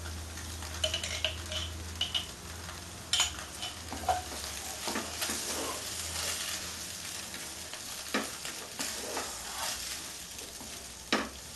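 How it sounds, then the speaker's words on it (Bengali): Sweet corn in a pan is stirred as sauce goes in, with soft scrapes and occasional spoon taps on the pan over a low, continuous sizzle and a steady hum beneath, heard up close with no one talking. "মেয়নি সসটা আমি মেলাবো আমি এতে তিন টেবিল চামচ মতো সস দেবো"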